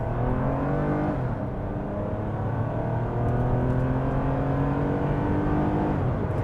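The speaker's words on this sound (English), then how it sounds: "I bet you this is the hardest this car has been driven in a while." Toyota RAV4 with a V6 engine accelerating hard, heard from inside as a loud continuous engine roar with rising pitch through the gears.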